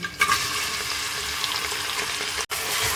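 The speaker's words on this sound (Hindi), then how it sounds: "यहाँ पर मैंने प्रेशर में आधा कप ऑयल डाल, एक लार्ज साइज का प्याज है स्लाइस में काट लिया, इसको मैं ऐड कर दूंगी" Sliced large onion frying in half a cup of oil in a pressure cooker, a steady close hiss of sizzling with a brief dropout near the end and no talk.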